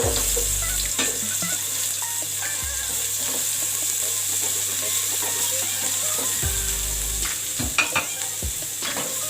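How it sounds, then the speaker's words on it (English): Onion sizzles steadily in a hot pan with garlic while a utensil scrapes and stirs it several times. "Saute soya little, and we will put now the onion."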